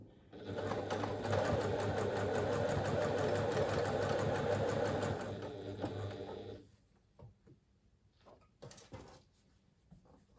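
A sewing machine stitches fabric for a small pouch, running in a fast, steady mechanical whir for about six seconds before stopping, then scattered clicks and soft handling of the cloth, close and clear.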